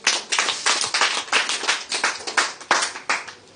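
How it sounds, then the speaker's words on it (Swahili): A church congregation at a Bible study and prayer meeting claps hands for the Lord in a steady, lively burst of many hands. The rhythmic claps are close and loud, with no voices over them. "Hebu tupigie Bwana makofi makubwa."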